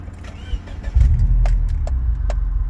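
A 2006 Subaru Legacy 2.5GT engine fires up and settles into a steady, low idle, close and loud, after a few faint clicks and jingles beforehand.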